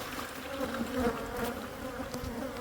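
Bees buzz in a dense, agitated drone during a beehive inspection, swarming close around gloved hands as they try to sting, fairly faint and without talk.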